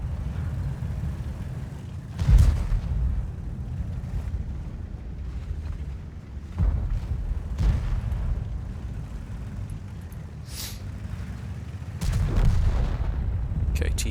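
Tank cannon shots boom in the World of Tanks video game, with one heavy blast near 2.4 seconds, another near 12 seconds and a softer thud between, set against a constant low engine rumble.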